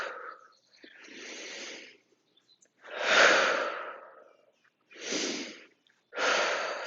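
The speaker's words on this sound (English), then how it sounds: "let's see the Tibetan breathing again" Tibetan breathing exercise during a gentle knee workout: five forceful, breathy exhalations and inhalations, close and clear, with short quiet gaps between them and no talking.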